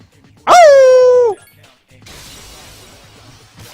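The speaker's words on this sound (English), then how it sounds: "I still hate dogs, by the way." A dog in the Persona 3 FES video game gives one loud, drawn-out yelping whine that sits bright and clear, then fades into a softer noisy rumble. A person gives a brief exclamation.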